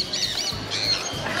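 A pet bird squawks at a bird show with exotic animals and parrots, giving harsh, close calls in a few bursts over steady crowd and room noise.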